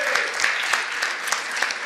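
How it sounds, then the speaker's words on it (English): A short burst of applause for the warden at a Passaic County commissioner meeting, a room full of people clapping steadily at close range with a few sharper claps on top. "I think everybody should give you a round of applause."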